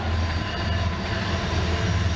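A train passes through St. Denis station on a fall weeknight evening, giving a steady, loud, close rumble with low droning tones that holds unbroken from start to finish.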